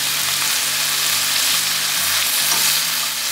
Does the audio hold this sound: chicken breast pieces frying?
yes